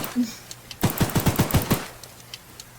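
Rapid burst of video game gunfire in a train-themed game, about seven quick shots in an even rhythm, loud and close, with faint background sounds before and after.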